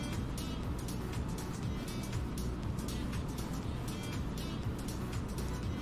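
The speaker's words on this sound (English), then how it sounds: "Engine sounds are low. Oh, they'll be low right now because I'm idling pretty much." A small-aircraft engine idles quietly in Microsoft Flight Simulator, a steady, low droning hum with faint grainy texture, alone and unchanging.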